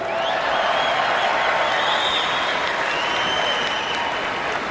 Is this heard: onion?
no